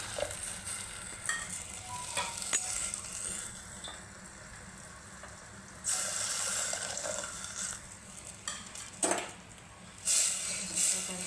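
Water poured into a pan of onion-greens curry (spring onion greens) sets off bursts of sizzling and stirring, with louder splashes around the middle and end, close and fairly loud with no talk.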